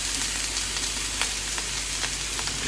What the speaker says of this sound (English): And I'm going to add some oil to this.